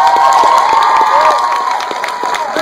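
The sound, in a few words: audience cheering and applauding at film premiere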